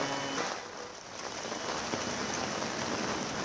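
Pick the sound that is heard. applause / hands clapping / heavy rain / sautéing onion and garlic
heavy rain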